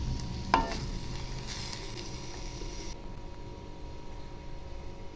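Spinach being mixed with cooked lentils, garlic and tomato in a pan, giving a soft, moderate sizzle with gentle stirring and one sharper clink near the start, no voices.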